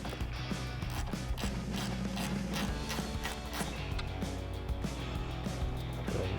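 A 10mm socket wrench loosens a factory nut on a Jeep JL Wrangler, giving a run of quiet, irregular clicks and ratcheting taps over a low steady background hum.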